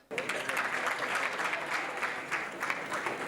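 A studio audience breaks into applause, a dense burst of many hands clapping that starts abruptly and holds steady and loud, with a voice faintly audible under the clapping.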